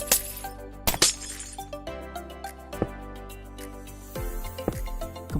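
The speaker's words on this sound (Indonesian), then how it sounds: "Hancurkan sebagian kaca-kaca di area sini." Glass blocks being broken in Minecraft, a run of sharp crisp shattering clicks repeating irregularly over quiet background music.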